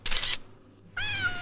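A house cat meows twice: a sharp, loud first call, a brief pause, then a longer, drawn-out tonal meow, close by with no talking.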